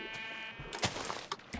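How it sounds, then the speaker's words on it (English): A sheep in the Minecraft video game bleats a few times in short, faint bursts, the calls coming alone with soft game sounds in between and no speech. "Come here, sheep."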